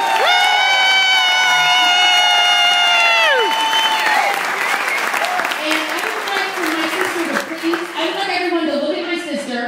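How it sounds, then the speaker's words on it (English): A round of applause at a toast for a couple, opening with a loud sustained whistle or cheer, then bursting into lively clapping mixed with cheering and shouting voices. "I think we need to give him a round of applause"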